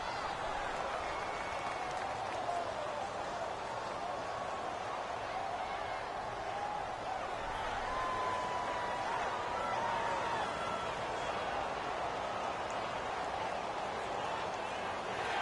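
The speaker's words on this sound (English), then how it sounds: "This home crowd, they're happy with that call." A home crowd in a PS4 American football video game cheers a penalty call with a steady, even roar and scattered clapping that lasts throughout at moderate volume.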